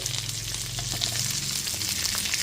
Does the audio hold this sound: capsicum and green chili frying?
yes